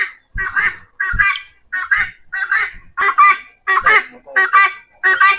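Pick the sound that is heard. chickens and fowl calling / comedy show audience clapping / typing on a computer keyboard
chickens and fowl calling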